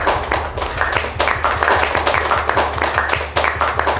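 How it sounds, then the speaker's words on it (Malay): A classroom of students applauding a classmate named Amir, loud close clapping from many hands with a steady, slightly uneven rhythm throughout. "saya nak kamu semua beri satu tepukan kepada Amir"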